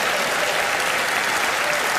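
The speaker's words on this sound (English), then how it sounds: "Give her a huge round of applause." A theatre audience at a magic show applauds loudly and continuously as a volunteer joins the performers on stage, a dense wash of clapping with no pauses.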